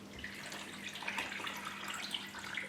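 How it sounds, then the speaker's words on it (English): Water pours steadily into a rock tumbler barrel holding tigers eye stones, a continuous close splashing trickle with small bubbling bursts and no talking. "And then we can add some more water."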